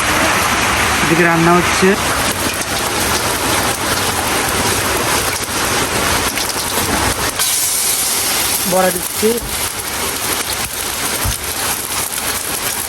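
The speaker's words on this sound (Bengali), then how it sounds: "বৃষ্টি শুরু হয়ে দেখেন যে জোরে বৃষ্টি হচ্ছে।" Heavy rain pours down in a steady, dense hiss that fills the whole stretch while someone talks over it during home cooking.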